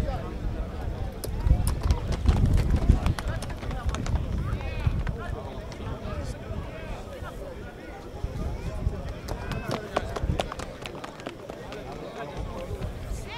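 Horses' hooves clip-clop steadily on the ground as Georgalidiko horses parade past at the 2023 Faneromeni horse gathering. An announcer talks over the hoofbeats, and wind buffets the microphone.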